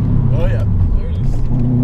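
A modified 2006 Subaru Impreza WRX with a turbo accelerates, its low engine rumble rising with brief whistling turbo and intake tones, close by, with people talking over it.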